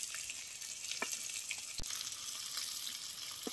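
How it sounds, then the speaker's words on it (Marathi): Finely chopped onion frying in oil over a wood-fired stove outdoors, a steady close sizzle with a few soft clicks from the pan and one sharp knock partway through. "आता हे बारीक चिरलेला कांदा यात भाजून घ्यायचा."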